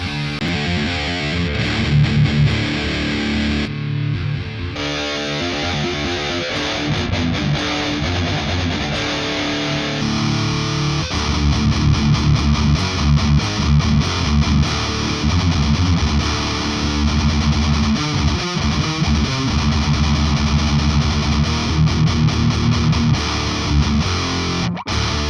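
A heavy, thickly distorted electric guitar played through an OTTO amp simulator churns out dense chugging riffs and sustained chords for the whole stretch, loud and constant with no voices.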